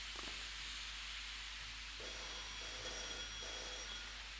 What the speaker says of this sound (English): Oh, there's a telephone ringing.